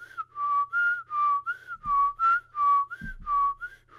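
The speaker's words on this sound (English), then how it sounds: "I whistle by blowing in and sucking." A man whistles a steady, repeated two-note pattern, about eight rhythmic phrases close to the mic, with a couple of faint thumps underneath.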